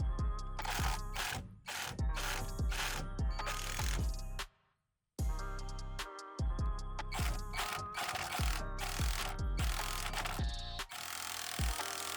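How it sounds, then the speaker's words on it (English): Rapid rhythmic mechanical clicking and ratcheting from a tool working on a tight, Loctite-coated 10 mm steering wheel bolt on a 10th-generation Honda Civic, loud and close, running continuously with one brief pause and no talking. "We're going to be removing that steering wheel bolt."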